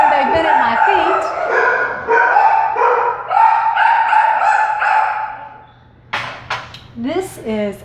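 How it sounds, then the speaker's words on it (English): Dogs at home on a Sunday afternoon bark and yip near the end, brief and close, following a stretch of someone talking. "the dogs are barking"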